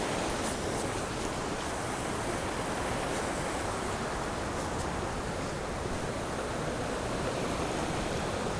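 A river swollen with spring runoff rushes past in a steady, loud, unbroken wash of water, close by and with no voices over it.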